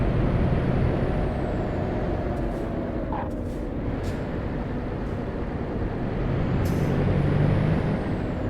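A Volvo truck in the Euro Truck Simulator 2 game drones with a steady, loud low engine rumble throughout, with a few brief hissing bursts like air brakes, and no talk.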